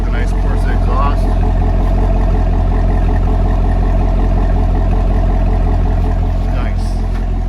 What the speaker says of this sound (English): There it is from the back with the nice Corsa exhaust.